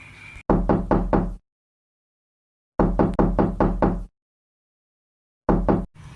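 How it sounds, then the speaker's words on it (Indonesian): Three bursts of quick, loud knuckle raps on a door, four or five knocks each, separated by silent gaps, close and distinct with no speech. "Dia berusaha untuk mengetuk-ngetuk pintu itu agar segera dibuka."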